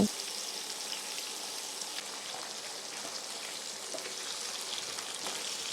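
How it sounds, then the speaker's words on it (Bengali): Fish heads fry in hot oil with a steady, fine crackling sizzle, even and continuous with scattered sharper pops. "ভালো করে আমি মাছের মাথা দুটো এপাশ ওপাশ করে ভেজে নেব"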